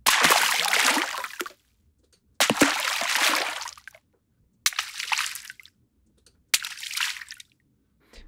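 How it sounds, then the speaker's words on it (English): Four separate hard water impacts on a medium surface from a sound-effects library, each a loud splashy burst that decays, with brief silences between them. "So your water, medium surface, impact, hard."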